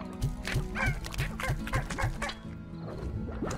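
Repeated clucking of chickens in the video game Slime Rancher, a steady series of close, rhythmic bird calls with higher squawks layered over them.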